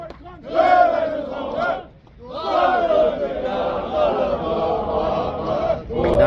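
Excited crowd of Iranian and Uzbek fans cheering and clapping in a stadium atmosphere, a loud sustained roar of voices that dips briefly then swells again and carries on.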